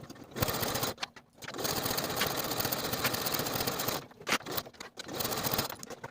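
A sewing machine stitches a 5/8 inch seam along the pinned outer edges of a fleece sweater collar, running in bursts broken by short pauses, steady and close.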